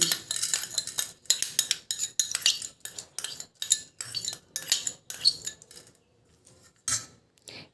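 Fenugreek seeds and torn guava leaves are tipped into a bowl, giving a run of quick rattling, clinking bursts with short gaps, close and fairly loud, tapering off toward the end.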